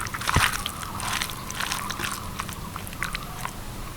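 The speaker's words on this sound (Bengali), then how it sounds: "এবার ভালো করে সব কিছু মিশিয়ে নেব" Marinated bone-in butter chicken is mixed by hand in a bowl, giving close, wet squelching and sloshing sounds in a continuous run with no one talking.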